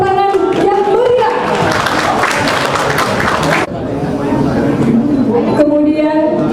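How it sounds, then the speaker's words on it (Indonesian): Applause and clapping from an audience at a regency government stunting-reduction event in Rokan Hilir, as the regent is introduced; steady broadband clapping with crowd murmur runs throughout, dipping briefly partway before resuming. "Kita beri tepuk tangan yang meriah."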